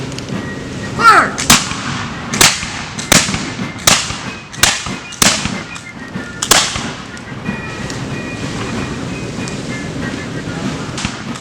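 A musket volley fired by file, flintlock muskets discharging one after another in a ragged sequence of sharp, loud cracks about every second, each trailing a short echo, then fading into open-air ambience.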